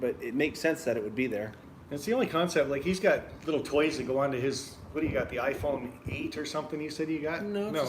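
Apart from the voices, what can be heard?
No distinct noise like a dog, phone or traffic.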